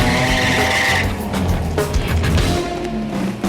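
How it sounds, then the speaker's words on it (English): Loud engines roar up close while tires squeal and skid, with a whining pitch early on and a burst of revving and screeching. "start your engines"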